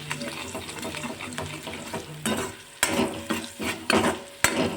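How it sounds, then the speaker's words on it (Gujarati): A spoon stirs turmeric powder into a hot tempering for Indori poha after the gas is switched off, giving several close, uneven scraping strokes over a soft residual sizzle. "હવે આપણે ગેસ બંધ કરી દઈશું ને બધું આપણે મિક્સ કરી દઈશું"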